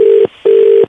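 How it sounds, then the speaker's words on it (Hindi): A telephone rings in two loud, steady electronic tone bursts separated by a short gap. The sound is close and clear, with no speech over it. "उसी नंबर से फोन आ रहा है"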